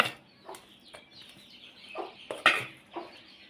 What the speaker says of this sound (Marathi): छोटे छोटे लहान लहान पिल्ले कोंबडीचे